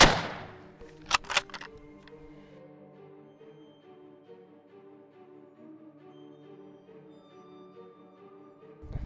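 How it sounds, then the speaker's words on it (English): A 12 gauge shotgun slug fires at a level 3A bulletproof vest, giving two sharp close bangs in quick succession, then a long ringing metallic decay that fades out. "We just popped it with the 12 gauge slug"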